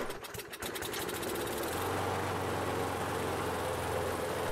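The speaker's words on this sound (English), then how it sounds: "I sprayed starter fluid in the carburetor with the airbox off, and she came to life again." A Briggs & Stratton 158cc engine on a Craftsman 500 Series lawn mower, revived with starter fluid, sputters briefly and then settles into a loud, steady, close running drone with no talk.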